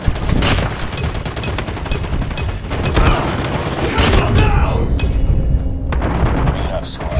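Rapid gunfire and booming blasts from the video game Call of Duty Mobile fill the scene in dense, continuous bursts, loud and close, while a player talks excitedly over the shooting.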